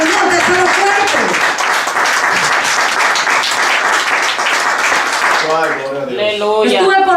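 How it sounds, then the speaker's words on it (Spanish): A church congregation breaks into sustained applause, loud and dense with many hands clapping at once. The clapping thins out near the end as a voice begins speaking over it. "Ese aplauso sí es para el Señor, de ser fuerte."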